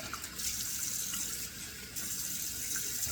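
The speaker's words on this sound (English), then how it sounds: "So we turn on the cold water." Cold water running from a bathroom tap, a steady loud splashing hiss that continues throughout with only a brief dip in the middle.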